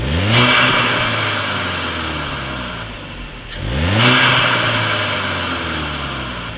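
Car engine fitted with an aftermarket intake revving twice, each rev sweeping up sharply then easing back toward idle, loud and close with no talk.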